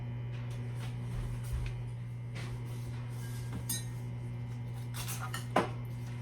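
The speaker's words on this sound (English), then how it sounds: "And I'm going to put that in my little doodad here, cast iron. I'm going to put it into the oven" A cast iron skillet is handled in a kitchen and slid into an oven, heard as quiet metallic clinks and clanks with one sharper knock near the end, over a constant low appliance hum.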